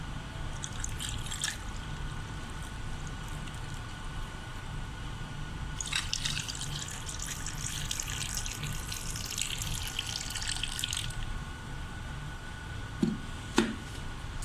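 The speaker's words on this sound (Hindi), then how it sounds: "अब मैं इसके अंदर शरबत डाल दूँगी।" Mango sharbat poured over ice cubes in a glass, a steady trickling liquid stream with bursts of brighter splashing in the middle, ending with a couple of sharp clinks near the close.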